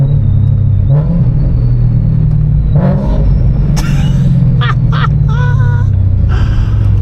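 A BMW 1M clone with a supercharged S65 V8 rumbles loudly and steadily from inside the car on its first drive, with a whine and short bursts of sound over the engine drone.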